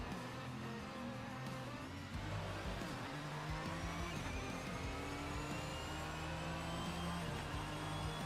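A race car engine in a video game whines and revs at high pitch, shifting up and down steadily, with a brief dip before climbing again; no voices.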